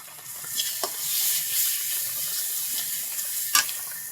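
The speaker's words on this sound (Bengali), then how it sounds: "তো সব কিছু দিয়ে আগে মশলাগুলো কষাবো" Spices cooking down with chili powder, turmeric and salt for a hilsa curry with banana and potato: a continuous close sizzle broken by a few sharp scrapes and stirs, with no voices.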